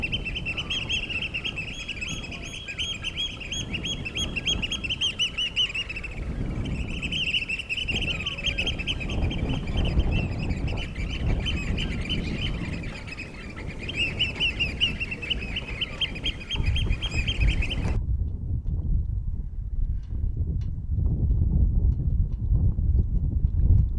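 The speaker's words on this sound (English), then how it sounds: "the oyster catchers become utterly overwhelmed with lust and they prance up and down making their crazy," Oystercatchers at a drying mooring give excited, piping calls that run almost continuously and fairly close over a constant low outdoor rumble, then stop abruptly, leaving only the background noise.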